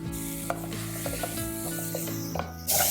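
Carrot, cabbage, peas and corn sautéing in a pot with a little salt, a steady low sizzle under repeated scraping strokes of a spoon.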